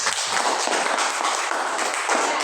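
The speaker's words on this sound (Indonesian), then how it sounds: "Ya, tepuk tangan." A class of students claps together after a group presentation, a dense, steady patter of many hands that stays at an even, moderate level from start to finish.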